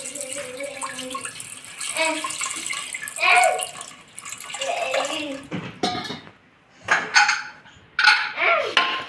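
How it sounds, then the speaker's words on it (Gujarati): Water pours and splashes into a pot holding two potatoes in uneven bursts, with a few clinks of metal in between. "મેં 2 બટેકા લીધા છે, તેમાં પાણી રેડીશ"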